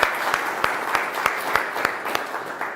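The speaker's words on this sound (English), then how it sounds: "Keep applauding for your mayor." A town hall audience applauds their mayor, steady mid-distance clapping from a crowd with sharper individual claps standing out in an even, continuous wash of applause.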